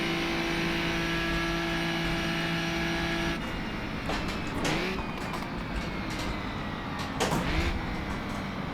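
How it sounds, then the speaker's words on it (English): In the racing game rFactor 2, a steady vintage 1950s Le Mans race car engine drone gives way to a couple of cars roaring past one after another, each rising and falling as it sweeps by. "they will hear a car approaching"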